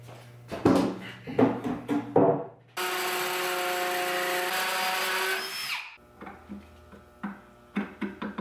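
Power drill whirs steadily for about three seconds, loud and close, between clattering knocks and handling of wood and tools.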